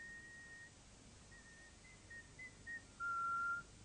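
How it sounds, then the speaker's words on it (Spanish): Air forced through a small opening makes a faint whistle: short, thin tones that break off and restart, ending in one louder sustained note. "Nosotros oímos las vibraciones como el sonido de un silbato."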